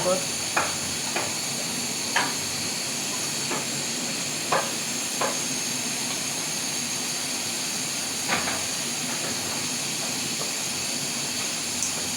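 Whole garam masala and bay leaves sizzle in hot mustard oil, a steady hiss with faint crackling and a few soft stirring clicks throughout.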